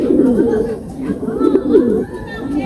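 Racing pigeons at a rooftop loft during the third lap of a north derby race in Ilocos Sur, with steady low cooing and chatter close by, continuous throughout.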